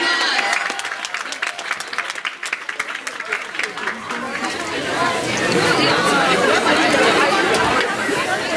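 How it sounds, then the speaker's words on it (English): An indoor audience breaks into applause, claps building into a dense, steady wash while crowd chatter and voices mix in underneath. "Round of applause."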